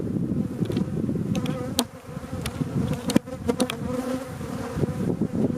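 Honeybees buzzing at an open hive during a beekeeper's frame inspection, a dense continuous close drone with individual bees zipping past the ear, steady and loud.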